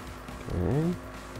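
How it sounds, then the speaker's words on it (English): Car driving with a rising engine rev and a brief tire squeal in the video game Danganronpa V3, a single short swell standing alone over a steady game background hum. "let's run you over in the car"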